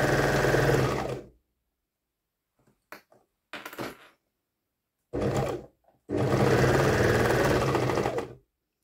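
A sewing machine stitching a pocket seam, running in loud steady whirring bursts separated by silent pauses and short stop-start runs, close to the microphone with no talking.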